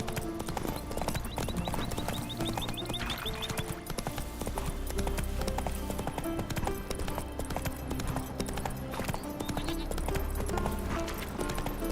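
Roach the horse trotting in The Witcher 3, steady clip-clop hoofbeats throughout over in-game ambience and music, with a voice speaking now and then.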